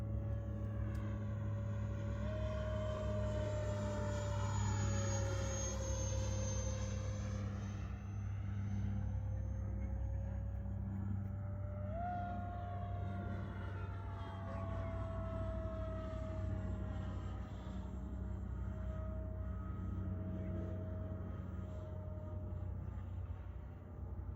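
A Flyfans K8 Karakorum 80mm EDF RC jet takes off with a steady, loud ducted-fan whine and roar whose pitch sweeps up and down as it climbs away, over a constant low rumble.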